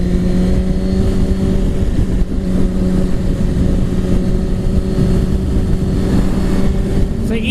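A 2017 Suzuki GSX-R1000 motorcycle engine drones loudly and continuously under acceleration on the road at part throttle, with heavy wind rush mixed in.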